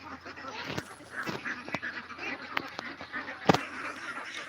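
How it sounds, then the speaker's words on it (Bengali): Domestic ducks kept in a pen quacking in short, scattered calls at close to middle distance, with one louder honk near the end over low background noise. "আমার একটা হাঁস বের হয়ে গেছে একটা হাঁস বাইরে চলে গেছে"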